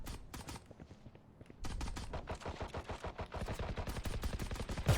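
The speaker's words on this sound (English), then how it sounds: "Are they shooting at you in" Video game gunfire in a competitive tactical shooter: a few isolated shots, a brief lull, then sustained rapid automatic bursts, loud and close, with no talking.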